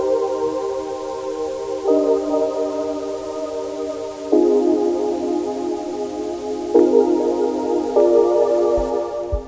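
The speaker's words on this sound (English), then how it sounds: "So you're hearing the dusty record synth," A dusty record synth in GarageBand plays sustained chords with a warm, slightly hazy tone, shifting to a new chord every couple of seconds over a faint crackly noise floor.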